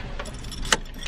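A quick jangle of car keys being snatched up, with one sharp metallic rattle standing out against steady background rumble.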